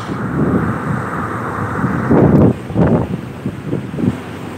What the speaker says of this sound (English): Wind's picked up.